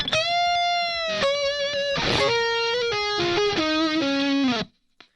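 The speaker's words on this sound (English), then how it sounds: "we're adding a little bit of an overdrive pedal, and that's just adding some of the grit that it needs" Lead electric guitar played through an overdrive pedal plays a melodic line of sustained, gritty distorted notes with bends and slides, loud and upfront with no talking, ending abruptly.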